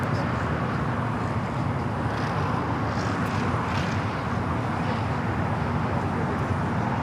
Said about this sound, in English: We do have United Airlines flight 28449 heading to Vegas, 737-900 ER. Will be our next takeoff here on the south side.